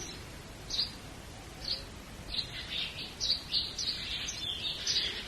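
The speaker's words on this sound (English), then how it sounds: "The birds are singing." Scattered high chirps and short tweets from birds, fairly faint, repeating irregularly and growing busier toward the end over a quiet background hiss.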